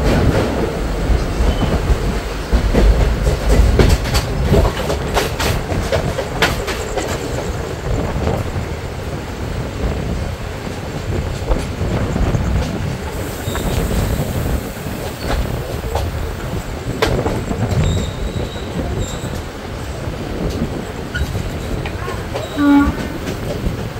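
A special-fare passenger train running from Digha to Dakshineswar, heard from inside the coach: a loud continuous rumble with rhythmic wheel clatter and rattling, a horn sounding, and occasional voices in the background.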